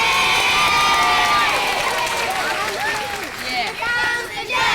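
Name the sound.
crowd cheering for the judge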